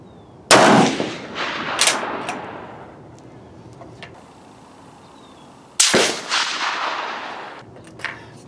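Gunshots at an outdoor shooting range: a few sharp, loud reports spaced seconds apart, each followed by a long rolling echo that fades into quiet.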